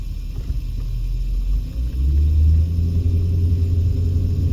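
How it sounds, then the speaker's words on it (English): Late-afternoon traffic on Charleston Blvd in East Las Vegas rumbles past, a steady low engine drone that swells as a car accelerates by nearby, with no talk. "lot of traffic here"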